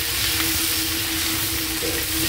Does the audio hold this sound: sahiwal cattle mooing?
no